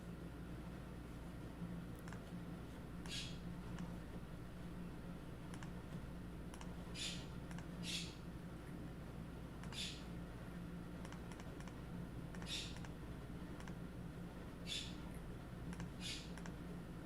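A small pet parrot gives brief, high chirps every few seconds in the background of a quiet indoor room, faint over a constant low hum with no talking.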